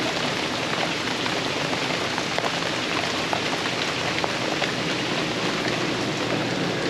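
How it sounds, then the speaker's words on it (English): Torrential rain pours steadily on a wooded land-clearing site, a dense, unbroken hiss with scattered droplet patter, loud and close throughout. "Now that's a lot of rain."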